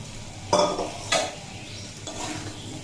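Fried potato and papaya stirred into spices and chickpeas in a pan, giving two sharp scraping clatters early on and a softer stir later over a low, steady sizzle.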